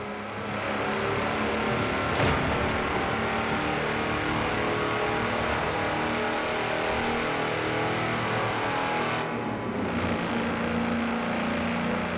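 A tractor engine drones at high speed in the racing game Forza Horizon 4, a steady, loud motor roar with sustained tonal whine and slight pitch shifts, running continuously throughout.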